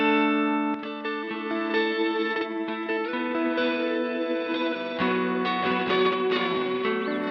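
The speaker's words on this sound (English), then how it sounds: "this alternates between stretching your audio forward or in reverse in a random sequence" Pladask Elektrisk Fabrikat effect randomly alternating forward and reverse time-stretching, heard as a dense, shimmering harmonic wash with small stutters and shifts, loud and steady throughout, no talking.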